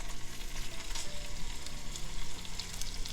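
Salmon fillets frying in hot olive oil in a pan, a steady soft sizzle that runs evenly throughout at moderate loudness, with no talking.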